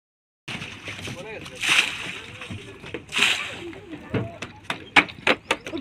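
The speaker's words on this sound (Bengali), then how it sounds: "ওই যে নৌকাটা আসছে ওইটাতেই কিন্তু আমরা যাব।" A boat approaches on the Gorai river in winter, its hull sending up close, irregular splashes and sloshing water that grow busier toward the end, with voices talking over the scene.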